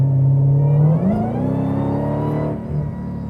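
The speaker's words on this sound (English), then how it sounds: "That supercharger whine." Dodge Demon 170 accelerating hard, its supercharger whine rising in pitch over a deep engine rumble, loud and close, then easing off near the end.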